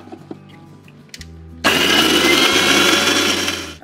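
An electric mixer grinder grinds twenty garlic cloves and a teaspoon of salt for chutney. After a few quiet clicks and clatter, it starts suddenly into a loud, steady whirring grind that runs for about two seconds.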